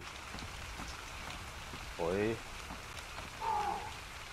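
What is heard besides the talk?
rain in the video game ARK: Survival Evolved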